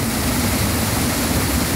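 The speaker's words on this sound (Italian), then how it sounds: "questa forza dell'acqua, questa cascata, il mulino che gira a tutta velocità" A waterfall rushes beside a watermill turning at full speed, a close, loud, unbroken roar of water with no voices.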